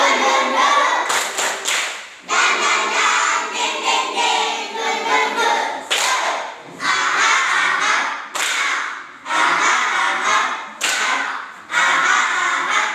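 Fourth-grade elementary schoolchildren in a classroom clap together in a rhythmic spirit-clapping pattern: loud, sharp bursts grouped in repeated beats with brief pauses between sets.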